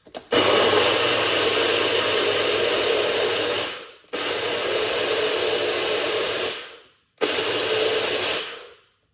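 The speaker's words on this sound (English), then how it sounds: "Let's blend this one" A blender whirs steadily through pomegranate and pineapple juice in three loud bursts, each a few seconds long, each tailing off and then stopping abruptly before the motor starts again.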